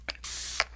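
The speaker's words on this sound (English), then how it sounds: "And a little spray here." One soft hissing spray burst during an ASMR paper-cosmetics makeup roleplay, lasting about a third of a second, close and quiet, framed by faint clicks or taps just before and after.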